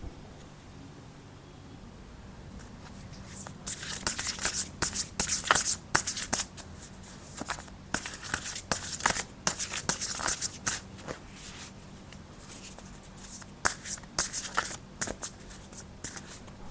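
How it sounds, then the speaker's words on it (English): Self care cards are shuffled for a card reading, quiet at first and then bursts of crisp riffling and flicking in irregular runs, close up with brief pauses between shuffles and no talk. "Let me pull some self care cards and see what comes up."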